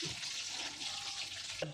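Papaya leaves washed under a running tap, with a steady, fairly quiet stream of water splashing throughout and a brief louder splash near the end.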